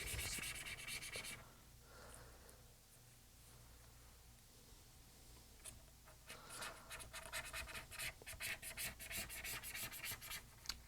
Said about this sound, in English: this is just a flat blade, X-Acto blade, that I'm scraping off this adhesive with.